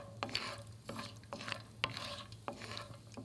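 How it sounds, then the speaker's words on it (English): Half a cup of cashews sauté in a pan, giving a soft, steady sizzle broken by rhythmic scraping stir strokes about every half second. The sound is moderately quiet and there is no talk. "And just like light brown color, we saute them."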